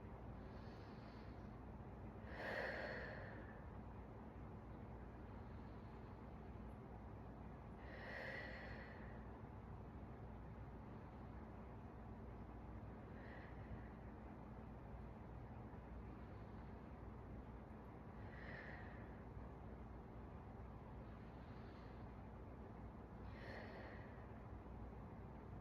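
Slow, deep breaths taken while holding a child's pose during a beginner yoga flow, with about five soft airy inhale-exhale swells spaced several seconds apart. They sound close but quiet over a steady low background hum.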